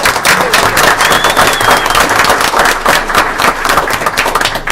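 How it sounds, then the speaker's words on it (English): A crowd at a township board meeting gives a round of applause: dense, steady clapping that carries loudly through the whole stretch. "Let's give a round of applause."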